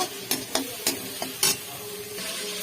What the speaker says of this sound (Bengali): চিংড়ি মাছগুলো লাল লাল করে ভেজে নেব